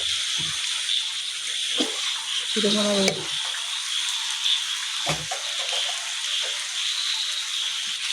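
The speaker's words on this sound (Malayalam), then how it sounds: "ഒന്നുകൂടെ ഇളക്കി കൊടുക്കട്ടെ." Chicken chukka with garam masala stirred in a frying pan, a steady close sizzle broken by a few brief scrapes of the spoon against the pan.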